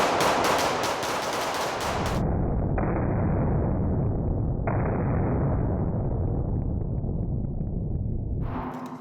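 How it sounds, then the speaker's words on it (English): Two people fire pistols together, one hammer-fired and one striker-fired, in rapid overlapping shots that merge into a loud, dense burst lasting several seconds, then a few spaced shots near the end, with no talking. "When I start shooting, you start shooting, okay?"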